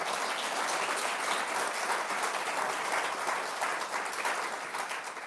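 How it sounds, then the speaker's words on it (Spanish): A church congregation gives a sustained round of applause, many hands clapping in a dense, even wash that fades slightly toward the end. "Den un aplauso al Señor por el crecimiento de ustedes."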